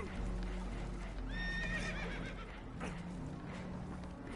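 Spooked horses whinny on a damaged boat taking on water in Red Dead Redemption 2, one rising neigh standing out clearly over a constant low rumble of water and hull noise.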